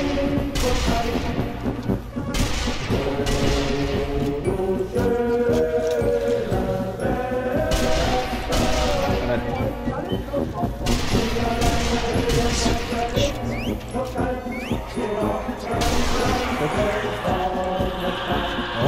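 M1 Carbine gunfire in the video game Zombie Army Trilogy, a dense stretch of repeated shots and impacts mixed with game music and effects, loud and continuous.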